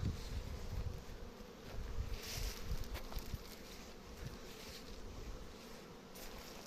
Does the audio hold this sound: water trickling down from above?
no